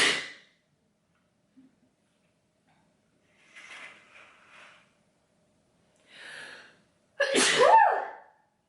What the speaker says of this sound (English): Oh my God, I feel like I'm gonna sneeze.